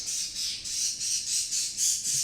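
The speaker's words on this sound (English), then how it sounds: "this bird is not going to be quiet." Squawking bird in the video game A Hat in Time, a loud, shrill, steady run of repeated squawks pulsing about twice a second and carrying on without a break, heard alone.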